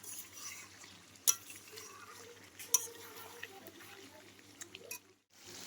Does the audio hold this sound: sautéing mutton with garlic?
yes